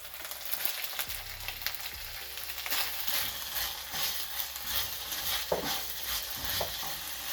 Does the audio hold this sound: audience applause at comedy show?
no